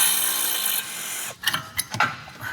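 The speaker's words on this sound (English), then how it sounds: "I'll get these caliper bolts out." Power tool spinning out brake caliper bolts on a twin-turbo diesel BMW: a loud continuous whirring for over a second, then stops, followed by several metallic clunks and knocks.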